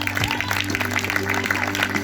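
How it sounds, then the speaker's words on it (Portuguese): A church congregation claps in praise during a sermon, a dense scattered patter of many hands with voices mixed in underneath. "Louve o Senhor com palmas."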